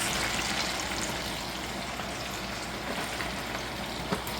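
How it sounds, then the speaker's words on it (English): Chicken wings fry in a pan, giving a steady, dense sizzle and crackle that stays fairly even throughout at close range, with a single small pop near the end. "Oh, the wings are cooking."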